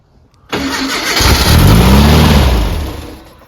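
A Brubaker Box kit car engine with a 2-barrel carburetor cranks and catches on its first start attempt, then roars up loudly and settles into a rough, throaty run before fading slightly.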